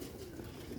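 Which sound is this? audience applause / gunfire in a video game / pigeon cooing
pigeon cooing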